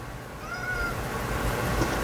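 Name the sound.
cat meowing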